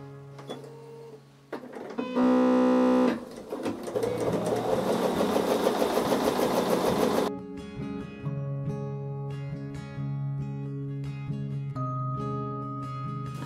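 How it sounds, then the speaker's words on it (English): A sewing machine whirs in a fast burst of stitching on Bargello patchwork quilt fabric, then slows and stops; soft music plays underneath. "I'm going to go over to the sewing machine and do that."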